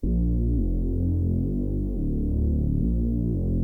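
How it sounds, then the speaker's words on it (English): A deep, droning synth bass plays alone, throbbing low and steady with note changes every second or so, loud and continuous throughout. "because we want this to be the sub bass"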